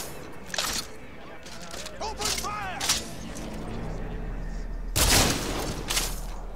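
Hand cannon shots in Cyberpunk 2077 crack out as a few loud, separate blasts among game noise, with a player talking over the action.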